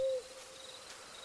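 A single owl hoot sounds in a forest setting of a horror video game, a short tonal note that fades into a low, hushed ambient background.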